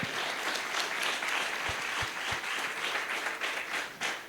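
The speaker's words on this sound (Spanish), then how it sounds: "Un fuerte aplauso, porque es muy fuerte." An audience at a talk on youth and juvenile justice breaks into steady, sustained applause, a dense wash of clapping with a few sharper thumps, continuous throughout.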